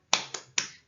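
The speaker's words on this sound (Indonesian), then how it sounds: "kita melakukan tepuk semangat" Three sharp claps in a quick rhythm, close and loud, as a class does the 'tepuk semangat' spirit-clapping chant in a school lesson.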